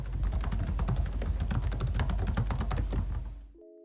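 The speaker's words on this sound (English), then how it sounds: "This is how the keyboard sounds." Rapid typing on the plastic chiclet keyboard of a Lenovo Legion 5i laptop, a dense stream of close, crisp key clicks for over three seconds before stopping abruptly.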